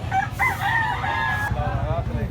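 A Kelso gamecock rooster crows loudly and close by, a long drawn-out call, with other fowl clucking and crowing in the background.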